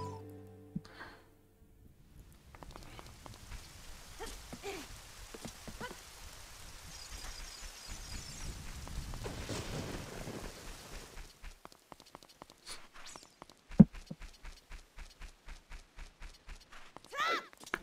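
Rain falls in Zelda: Ocarina of Time 3D after the Song of Storms is played, a soft hissing patter that builds to a steadier shower mid-stretch before giving way to a run of rhythmic footsteps.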